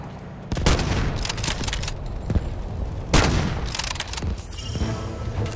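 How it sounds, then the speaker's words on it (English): Gunfire in the video game Delta Force, with loud booming shots and bursts of rapid fire crackling across a busy battlefield, two heavy blasts standing out among the steady shooting. "I got the guy shooting our tank."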